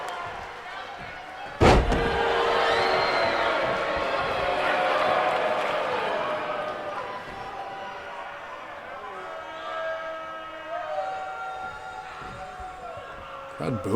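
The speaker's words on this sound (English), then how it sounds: "Crowd booing here." A wrestling arena crowd roars in a sustained wash of voices, broken early by a sharp slam, with a commentator talking over the din as the noise swells and eases.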